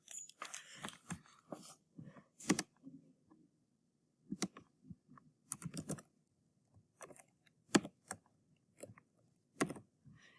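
Fingers tapping keys on a calculator in a maths class, with irregular bursts of small plastic clicks and pauses between them, close and fairly quiet.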